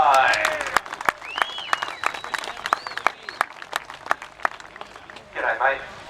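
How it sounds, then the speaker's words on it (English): Crowd applause and scattered cheering at a Victorian 360 sprintcar championship trophy presentation, sparse sharp claps and whistles over a lively outdoor crowd, with an announcer talking nearby. "Having a round of applause for your new Victorian 360 Sprintcar champion, Geoff Ensign."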